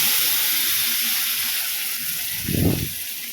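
Cooked lentils poured into a pan of mashed sautéed tomatoes for sambar, a brief soft splat and surge of sizzle near the end over a steady background hiss.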